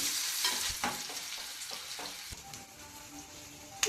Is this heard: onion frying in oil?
yes